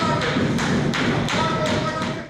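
Opposition deputies bang on tables in a parliament session after a vote, producing a loud, steady run of heavy thumps about three per second over a constant crowd din.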